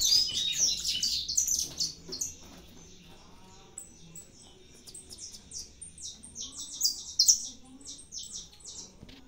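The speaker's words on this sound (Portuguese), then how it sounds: "Tá procurando o canário que tá cantando" Saffron finches (canário da terra) singing in an aviary, high bright chirps and trills repeating across the whole stretch, fairly close, with faint low background noise.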